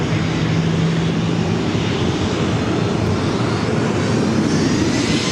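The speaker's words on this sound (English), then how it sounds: "737-800 taking off to Calgary" A Boeing 737-800 jet taking off at LAX roars as a loud, steady, broadband engine rush that holds constant throughout, with no voices.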